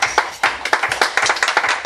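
Congregation in a church clapping in a quick, irregular burst of handclaps, loud and close, with no talk over it.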